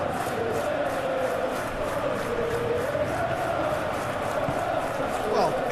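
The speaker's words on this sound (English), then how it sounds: "the crowd clearly like what they just saw" A simulated stadium crowd roars in the eFootball PES 21 game during a Chelsea versus Leeds United FA Cup semi-final, a steady wash of cheering and chanting under a commentator's voice.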